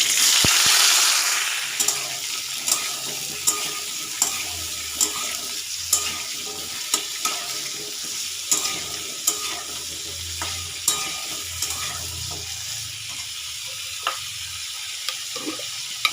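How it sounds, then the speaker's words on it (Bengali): Potatoes, beans and other vegetables fry together in a pan, with a steady close sizzle and regular scraping stirs repeating every second or so throughout. "সবজিগুলো একসঙ্গেই ভেজে নিচ্ছি।"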